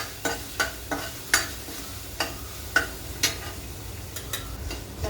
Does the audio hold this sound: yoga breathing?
no